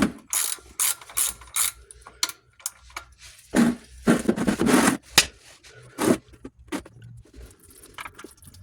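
A ratchet clicks in quick bursts while loosening the oil drain plug on a Ford F-series truck, sharp close metallic ratcheting separated by short pauses, with no voices.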